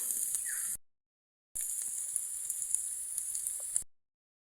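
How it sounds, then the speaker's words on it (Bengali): Spice paste and potatoes sizzle while frying in a pan: a steady, bright hiss runs in two stretches with a short silent gap between them, and faint crackles pop through it. "সুন্দরভাবে মশলাটা ভালো মতন কষিয়ে আলু ভালো মতন কষানোর পরে"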